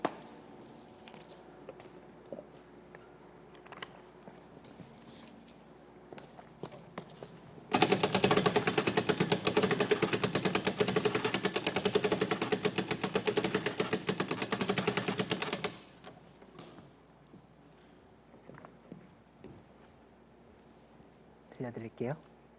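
Winding a music box (orgel) at a live music performance: a close, steady ratcheting crank lasting several seconds amid a quiet room, with faint speech before and after.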